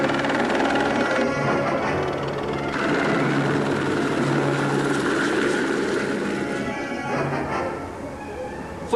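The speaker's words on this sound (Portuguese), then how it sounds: "Foi apenas um helicóptero" A helicopter's rotor chops and drones steadily, loud and fairly close, with faint voices underneath.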